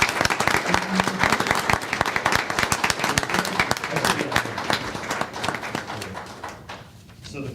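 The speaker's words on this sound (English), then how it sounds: "Big round of applause." Audience at a water district board of directors meeting applauds award recipients honored with a Collection System of the Year award, steady dense clapping for several seconds that thins toward the end.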